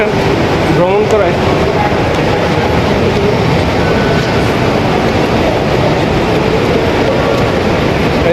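A metro train runs through a station on the Qatar Metro, a loud, steady rumble and roar filling the whole stretch, with a brief screech early on and some background voices.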